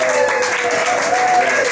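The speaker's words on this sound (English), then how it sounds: "So if you guys will do a lot of applause," An audience applauds in a dense, continuous wash of clapping that holds steady and fairly loud throughout the short moment.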